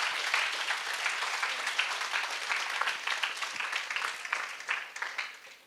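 Students in a college speaking-event audience give a sustained round of applause, a thick, even clatter of many hands that thins slightly toward the end.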